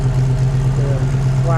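A classic car with dual exhaust through the bumpers idles while warming up, a steady low engine hum with a constant droning pitch, close and even, with no revving.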